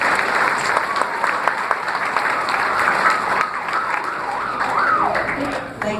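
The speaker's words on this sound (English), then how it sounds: "So let's give her a round of applause." Audience at a graduation ceremony applauds steadily, a dense continuous clapping with a wavering whistle-like tone rising and falling above it.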